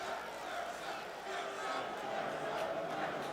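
A restless boxing crowd murmurs and buzzes steadily in the Atlantic City Convention Hall, a dense, moderately distant wash of voices with occasional louder shouts as fans await the fighter.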